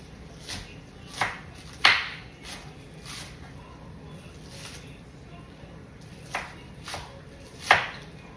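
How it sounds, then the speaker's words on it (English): A knife chopping green onion on a cutting board makes sparse, irregular sharp taps, several distinctly louder, spread through a quiet kitchen. "when I needed the green onion, I will go ahead and cut it in"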